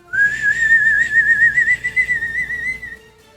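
A person whistles a sustained, wavering tone imitating a whistle in the air, loud and close, rising slightly and then fading out near the end.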